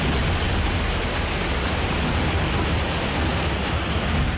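Heavy rain in a hilly area as the Kori River at Lumti in Bangapani tehsil overflows onto the roads, a loud, dense, unbroken roar of rushing water and downpour with no voices.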